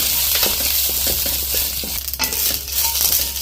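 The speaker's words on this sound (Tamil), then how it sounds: "இந்த கடுகு, உளுத்தம்பருப்பு, கருவேப்பிலை இதை தாளிச்சுக்கலாம்" Mustard seeds, urad dal and curry leaves crackle and sizzle in hot sesame oil, a loud, steady frying hiss with scattered pops and spatters close by, no voices.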